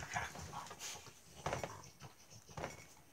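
A pair of pet dogs make soft, faint panting and snuffling sounds in short bursts, with a few light scuffing noises nearby.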